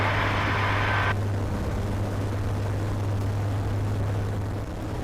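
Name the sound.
Eurofox microlight aircraft climbing after a go-around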